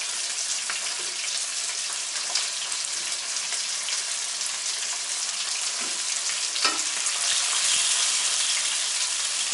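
Tofu and halloumi fry in pans with a continuous close sizzle, a few small pops and crackles scattered through, and no voices.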